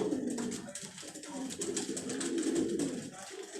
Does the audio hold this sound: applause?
no